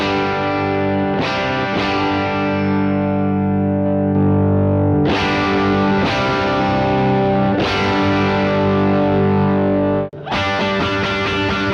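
Electric guitar through a JET Pedals Lamb overdrive pedal on its stage 2 drive setting, distorted strummed chords ringing out and sustaining between several hard strums, loud and close, with a brief cut near the end.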